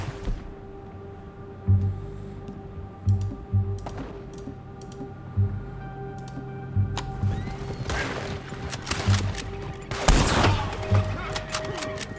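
Gunfire in the video game Red Dead Redemption II cracks out in repeated sharp shots over a low hum, building to a loud burst near the end, with a horse whinnying and voices speaking in between.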